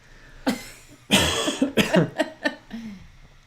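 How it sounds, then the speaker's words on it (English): A burst of several harsh coughs up close, one long hack followed by a quick series of shorter ones, ending with a brief throat sound. "I have like something in my where I just keep coughing"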